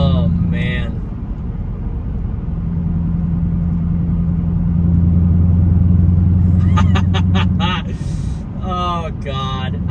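A Dodge Challenger SRT8 with a 6.1 liter Hemi V8 rumbles steadily as it drives by, a loud low engine drone swelling and fading, with people talking over it near the end.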